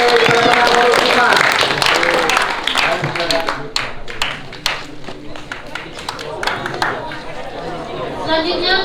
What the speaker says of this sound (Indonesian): Berikan tepuk tangan kepada kita.